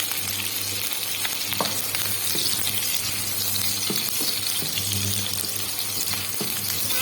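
Ginger garlic paste fries with onions in a pan for an Assamese mushroom curry, making a steady, close sizzle. Scattered soft clicks from stirring sound throughout, with no talk.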